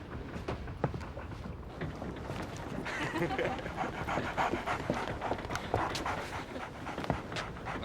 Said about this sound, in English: What's that dog doing on my deck?